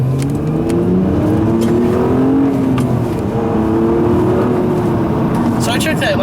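A front-wheel-drive V6 car on Goodyear Eagle GT tires corners at full throttle, its engine droning loud and close with rising and falling revs and steady road roar throughout.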